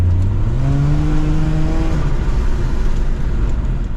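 Supercharged Lexus IS 350 engine accelerating, a loud close drone whose pitch climbs steadily over the first two seconds before settling into a dense sustained roar, no talking.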